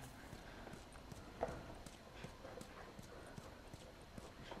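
In the video game The Last of Us, a horse walks with close, rhythmic clip-clop hoofbeats that stay fairly quiet, plus a few louder knocks over soft background ambience.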